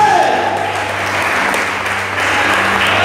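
A church congregation applauds the Lord during a sermon, a dense burst of clapping mixed with voices, loud and close, over about three seconds.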